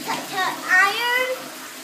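A household toilet flushes in a newly moved-into home, a rushing, gurgling swirl of water at close range. A child and an adult talk over it.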